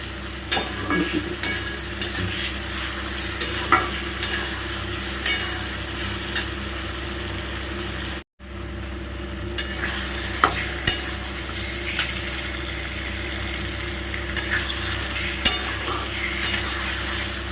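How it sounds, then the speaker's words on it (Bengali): Diced potatoes sautéing in a pan for an egg omelette curry, a continuous low sizzle with scattered spoon scrapes and taps, close by, with a brief dropout midway and no talking. "যে আলুগুলো ডুমো করে কেটে রেখেছি সেটা দিয়ে দিয়েছি। ভালো করে কষিয়ে নিই আগে।"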